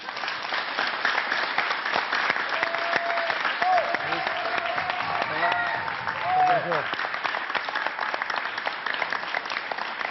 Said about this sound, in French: Jamal Debbouze, on l'applaudit encore.